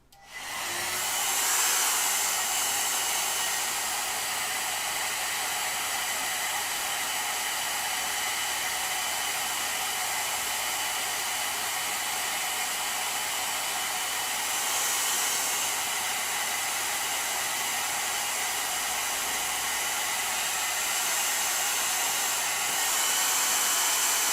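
A hair dryer blows on a freshly painted sketch, a steady, loud, continuous whooshing roar that runs without a break for the whole stretch, with no talking over it.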